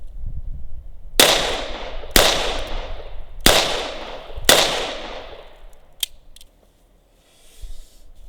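Ruger LCR X .22 LR revolver firing four sharp, evenly spaced shots about a second apart, loud and close, followed by a couple of faint clicks.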